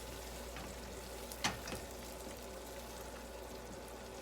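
Butter and vanilla stirred into hot peanut brittle candy on a stovetop, giving a steady soft sizzle with a single louder scrape of the spoon near the middle, close and quiet, no voices.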